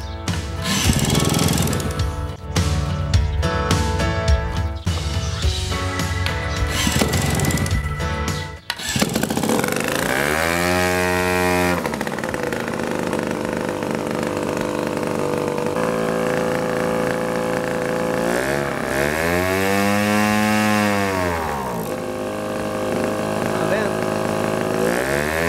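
A model airplane engine, a Telemaster, is started and revved. A loud rattling buzz runs for several seconds, then gives way to a steady drone that rises and falls in pitch in two long revving sweeps, heard up close.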